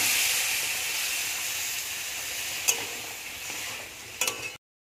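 Water poured into a hot pan with chili powder, a loud hissing sizzle and steam that slowly eases off, with a couple of utensil clinks near the end, close up and without voices.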